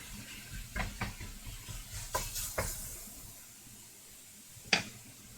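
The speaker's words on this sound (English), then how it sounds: "I'm losing my sizzle even with a fully hot pan here" Quiet frying sizzles as chicken cooks in a hot pan, broken by a few sharp scrapes and knocks of a utensil stirring the food.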